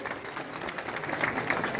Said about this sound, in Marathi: सर्वप्रथम आपण सर्वजण टाळ्या वाजवून स्वागत करायचं आहे